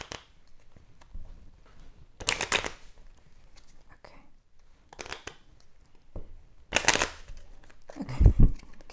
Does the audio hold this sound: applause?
no